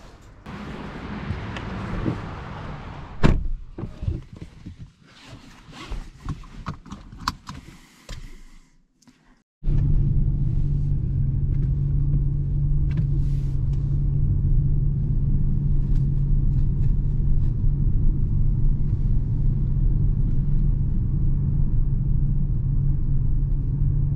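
Peugeot 508 PSE on the Bugatti circuit at Le Mans: a few seconds of scattered clunks and movement, a brief near-silent gap, then a loud, steady low engine rumble with a constant hum that holds to the end, with no talk.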